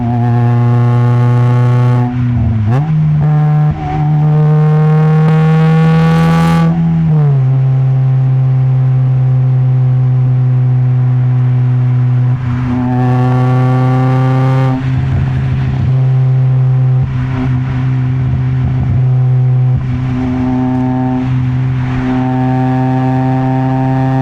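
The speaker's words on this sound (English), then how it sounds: "let's get a little VTEC run real quick" A Honda VTEC-equipped car with an aftermarket exhaust revs and accelerates loudly up close, the engine note climbing steeply, dropping at a gear change, then pulling again in repeated surges with no talking.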